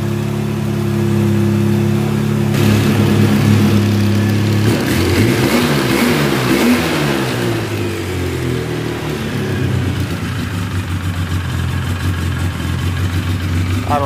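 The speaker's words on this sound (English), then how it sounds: "Idle down, it keeps idling back up." A Polaris Sportsman 700 ATV engine, being reassembled, idles with a steady low hum, then revs up into a rougher, wavering roar and settles back toward a fast idle that keeps climbing, loud and close.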